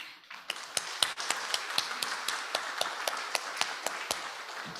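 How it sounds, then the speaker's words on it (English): A crowd applauds steadily for several seconds, dense clapping with a few sharper, closer claps standing out, and no voices. "One more round of applause."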